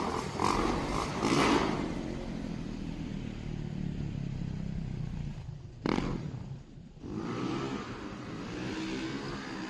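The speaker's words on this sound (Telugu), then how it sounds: "డర్ట్ బైక్ చేస్తున్నారు" Dirt bikes ride across the mountainous rock formations near Page, Arizona, their engines droning and revving at a distance in a continuous, moderately loud wash with a few brief dips.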